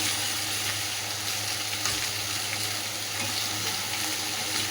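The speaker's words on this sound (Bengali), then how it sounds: "এবার শাপলাগুলো দিয়ে দেবো।" Water lily stems hit a hot pan with spices after fried prawns, giving a steady close sizzle and crackle that continues without a break.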